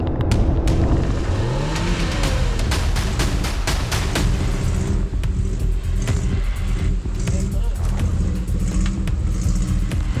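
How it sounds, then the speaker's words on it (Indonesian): A car engine revs and strains at close range while the vehicle hauls a wooden bridge into place with a rope on a rough crossing to a remote Indonesian village. The low rumble holds steady throughout. "ada kayu yang bisa ditarik pakai tali yang dikaitkan ke mobil supaya kayunya ini membentuk jembatan"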